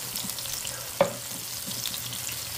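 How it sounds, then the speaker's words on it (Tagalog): Potatoes fry steadily in a pan with a continuous soft sizzle, a single brief clink of a utensil partway through. "Kasi magpiprito ko ng ating patatas."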